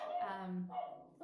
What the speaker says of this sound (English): that's my dog outside, alerting me that the mailman is here